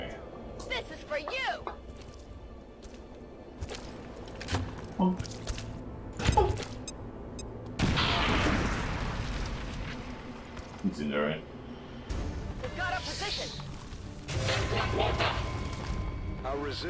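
An incendiary grenade goes off in XCOM 2 with a single heavy, roaring blast partway through, trailing into a crackling burn. Talk runs over scattered in-game clicks and thuds around it.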